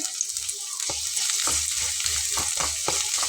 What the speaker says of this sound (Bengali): আমার কুচি করে নেওয়া পেঁয়াজটা আমি দিয়ে দিচ্ছি